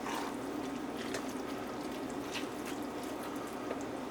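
Veggie stock pours into a cooking pot as a steady, continuous liquid rush, close and fairly quiet, with no voices over it.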